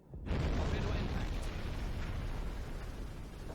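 A torpedo strikes a ship in Silent Hunter 5, Battle of the Atlantic: a sudden deep explosive boom bursts in, then a broad rolling roar that slowly fades over a few seconds.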